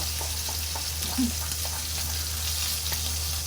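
Dried chili peppers dry-roasting in a pan for a northern Thai eggplant and bean salad, a steady soft sizzling hiss with faint stirring ticks, close and even throughout.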